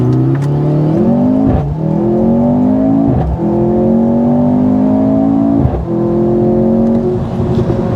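A 2024 Mercedes-AMG C 43 with a four-cylinder engine launches hard, its loud, close engine note climbing through three rising gear pulls with brief dips at each shift, steady and without talk.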